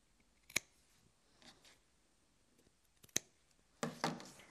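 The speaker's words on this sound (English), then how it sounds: "just very carefully snip your corners across" Scissors snipping across the corners of a fabric book cushion, heard as a few quiet, crisp snips spaced over several seconds, ending in a slightly longer cutting rustle, close and faint in a quiet room.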